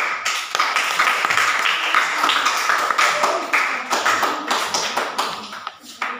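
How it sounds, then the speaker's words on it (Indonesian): Students receive a round of applause in a classroom, many hands clapping in a dense, continuous patter that is close and loud and lasts throughout. "kita berikan aplaus untuk mereka"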